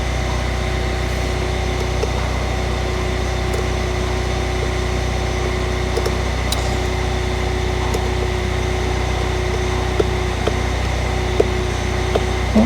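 A Kia Sportage engine idles steadily while it warms up, a constant low hum with a faint mechanical whine and occasional small ticks, heard alone without talking.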